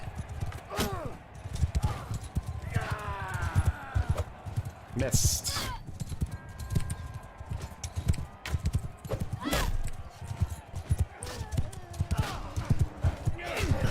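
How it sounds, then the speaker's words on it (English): A horse gallops in the medieval combat game Mount and Blade II: Bannerlord, with rapid hoofbeats and occasional whinnies and neighs, while someone talks over the action. "So I'm going to take this guy's horse."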